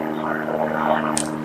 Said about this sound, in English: Sorry about the airplane.